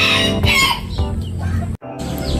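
A Serama chicken pair clucks and calls loudly and close in a free-range coop, with repeated bursts of crowing-like cackles and brief pauses, and no talking over them.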